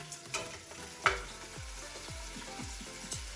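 Meat fries in a pan with a soft sizzle while metal tongs scrape and clack against it in quick repeated strokes, close and quiet, with no talking.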